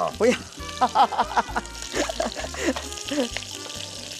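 Shrimp fry in hot oil in a wok for a curry glass-noodle casserole, giving a steady close sizzle with scattered pops and light stirring under an ongoing conversation.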